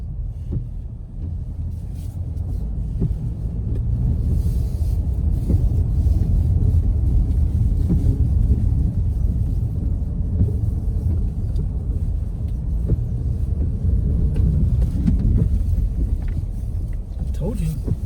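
A 2021 Ford Bronco Sport Badlands turning onto a gravel back road, a steady deep road rumble with crunching tire noise that holds throughout, plus a voice talking over it from inside the cabin.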